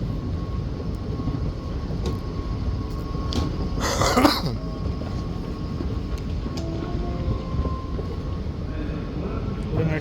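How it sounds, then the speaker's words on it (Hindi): A Dubai metro train rumbles steadily through an enclosed station, with a brief louder burst of noise midway and a faint tone running beneath the rolling drone. "भाई ये आ रही है मेट्रो"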